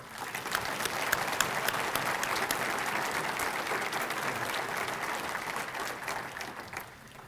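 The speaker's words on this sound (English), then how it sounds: "Let's give Chief White and all of his department a big round of applause." Audience applause at a city's State of the City address in Coeur d'Alene: a sustained, even wash of clapping from a large crowd, moderately distant and steady throughout.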